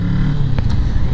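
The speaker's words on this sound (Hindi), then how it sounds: "सो गाइस चलते हैं Z650 को राइड करके देखते हैं" A Kawasaki Z650 BS6 2021 motorcycle runs close by, its steady low engine rumble holding throughout, with a brief sharper noise midway.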